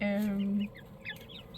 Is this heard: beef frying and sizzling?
no